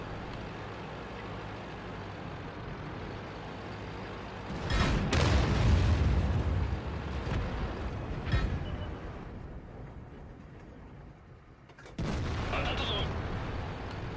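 Tank cannon fire in World of Tanks, a Type 4 Heavy battle on the Karelia map in assault mode: a heavy boom with a rumbling tail midway, then a second sharp blast near the end over engine drone.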